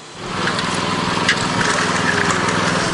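A power trowel machine smoothing and polishing a concrete floor gives a steady, loud motor drone with a gritty broadband whir that holds constant for about three seconds after a quick start, with no talking.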